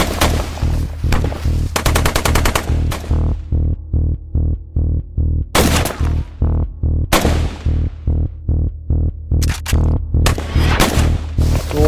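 Rapid bursts of gunfire at an Indian army training exercise, dense volleys alternating with regular repeated single shots in a steady rhythm, loud and close with no talking.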